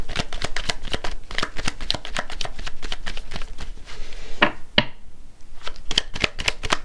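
Tarot cards shuffled by hand in a steady run of quick, close riffling clicks, a brief pause near the end before the shuffling resumes.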